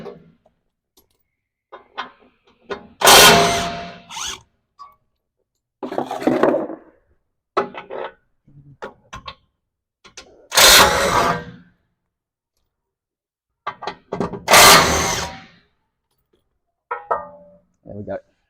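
Power tool bursts remove 12mm hex bolts from the skid plate of a 2024 facelift Toyota Land Cruiser 70 Series: three short, loud runs a few seconds apart, with quieter sounds and speech in the gaps.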